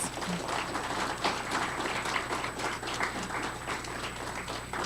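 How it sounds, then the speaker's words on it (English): A school district spelling bee audience applauding the contestants, with dense continuous clapping from a crowd filling the room at moderate level. "Let's give them all a round of applause."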